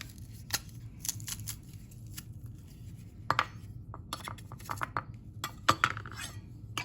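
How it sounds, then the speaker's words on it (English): A knife mincing garlic on a board while stir-fried rice is prepared, quick irregular clicks and taps in short clusters, close and fairly quiet over a low steady kitchen hum. "let's go ahead and mince our garlic"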